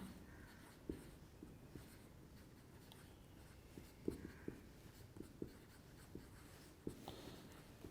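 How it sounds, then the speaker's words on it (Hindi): Marker or chalk writing on a board during a chemistry lecture, quiet scratchy strokes with soft taps at irregular intervals, alone without talk. "मैं इसे लिख भी देता हूं"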